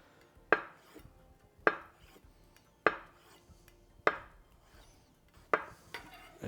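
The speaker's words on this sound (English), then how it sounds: "I'm just gonna slice it just as it is" A knife slices through tofu and taps the cutting board below, five evenly spaced crisp knocks about a second apart, close and fairly quiet with no talking.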